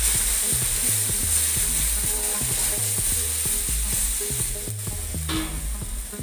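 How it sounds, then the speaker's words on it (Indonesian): White radish stir-fry with oyster sauce is stirred in a hot pan, producing rapid, rhythmic scraping strokes over a continuous loud sizzle that eases slightly toward the end. "Aduk rata."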